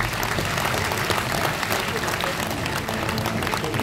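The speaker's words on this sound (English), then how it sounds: "A round of applause, ladies and gentlemen," An audience aboard the Golden Princess cruise ship applauds finalists Team Suzanne at the onboard singing contest finale, with steady, dense clapping and crowd noise filling the room.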